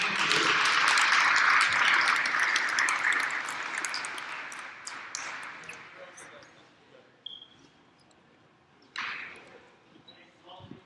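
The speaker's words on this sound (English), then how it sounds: "Let's give these young men and women a round of applause." Crowd in a high school gym claps loudly, the applause fading gradually over several seconds into scattered claps, with a sharp bounce-like thud and a ping near the end and a voice speaking over it.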